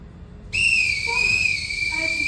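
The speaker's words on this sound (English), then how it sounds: "I could never answer to a whistle" A whistle blown as a call signal during a Sound of Music stage performance gives a sharp, loud sustained tone that starts abruptly and holds for about two seconds, with faint voices underneath.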